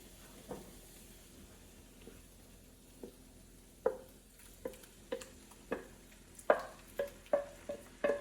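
Ingredients dumped into a pan of browning meat for chili, with a soft sizzle underneath a run of sharp clinks and scrapes of stirring that grow louder and quicker toward the end.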